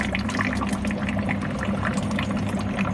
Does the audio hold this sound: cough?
no